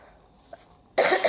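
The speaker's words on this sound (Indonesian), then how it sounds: "ini masih ada batuk." A person ill with COVID Omicron gives a loud, close cough near the end, a sudden harsh burst after a quiet stretch with only faint background noise.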